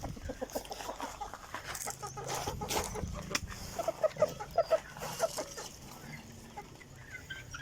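Backyard chickens cluck and squawk repeatedly during feeding, several sharp close calls rising over a steady background of flock chatter and rustling.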